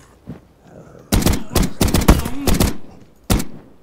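A machine gun fires in the blocky zombie shooter Zumbi Blocks, several loud close bursts of rapid shots separated by short pauses, with a single final burst after a gap.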